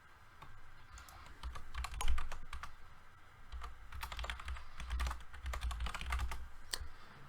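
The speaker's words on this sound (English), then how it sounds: "I typed it into the chat for you" Rapid clicking keystrokes on a computer keyboard, close and fairly quiet, coming in irregular bursts over a steady low background hum.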